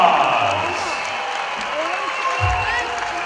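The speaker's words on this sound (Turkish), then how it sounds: "Alkışlar gelsin onun için." Crowd applause at the UEC MTB Eliminator European Championship, a steady wash of clapping throughout with a loudspeaker announcer talking over it and a few low thumps.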